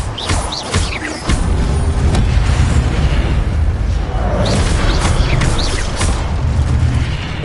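Incendio fire spell cast in Hogwarts Legacy: a sudden loud whooshing burst of flame that becomes a sustained roaring rumble, close and dense, filled with crackling pops and a second swell midway.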